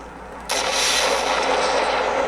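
Rockets launch and blast in a video game, a sudden loud whooshing roar kicking in and holding as a dense, sustained rush of noise, with no talking.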